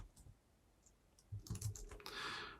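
Keys clatter on a computer keyboard as someone types a short command, a few soft taps followed by a quick louder burst of typing in a quiet room.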